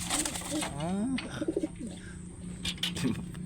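Pigeons coo softly nearby in low, throaty warbles, with a few short chirps and faint rustling in the background.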